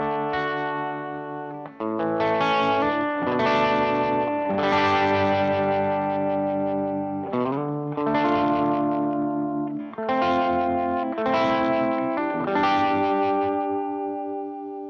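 Electric guitar chords run through a tremolo pedal. A series of strummed chords rings out with a pulsing, wavering volume, loud and close, with no talking.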